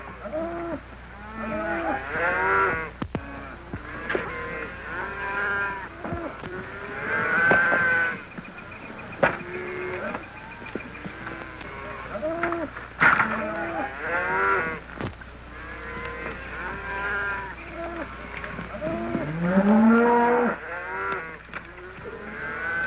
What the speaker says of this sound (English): Here comes the cattle.